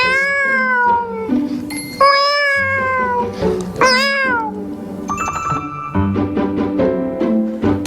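A man imitates a cat's mating call with his voice, a loud, wavering series of rising and falling yowls and meows delivered close up, alone, in bursts over several seconds.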